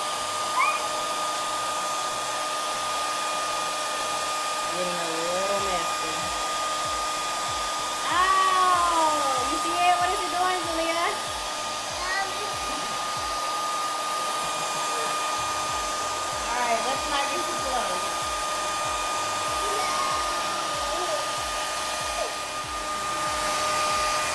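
A hair dryer blows hot air onto crayons stuck to a pumpkin, a steady close whirring roar running the whole time with children's voices rising briefly over it.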